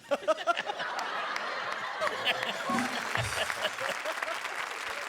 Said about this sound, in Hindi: जोरदार तालियां शकील सिद्दीकी के लिए।